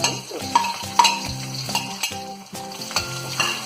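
Ginger, garlic and green chilli sizzle in hot oil in a pan while a utensil stirs them, giving continuous close frying crackle under scraping and clinking strokes, with no speech.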